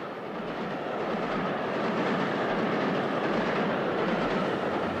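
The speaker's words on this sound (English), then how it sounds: "This train is carrying people from one place to another." A passenger train rolls steadily along its rails with a dense, continuous rumble and rushing roar, faint rhythmic clatter underneath, close and loud for the whole stretch with no voices.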